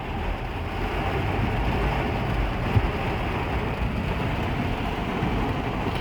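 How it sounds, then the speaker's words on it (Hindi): Heavy rain pours down outside in a dense, steady hiss that fills the air without pause, with no voices over it. "देख देवू कितनी बारिश हो रही है बाहर"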